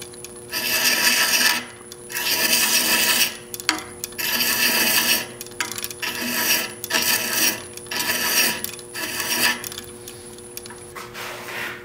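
A wooden male thread is chased on a lathe to take off its taper, making repeated bursts of scraping cutting noise in a steady rhythm of strokes, loud and close, with short pauses between passes and no talking.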